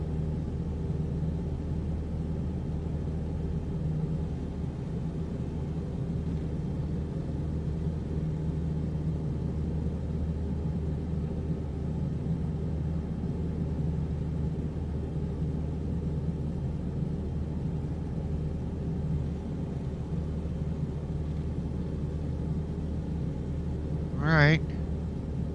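A tail-dragger plane's engine drones on approach to landing in Microsoft Flight Simulator on a bush trip into Kulik Lake, a steady low rumble throughout with a short tonal chirp near the end.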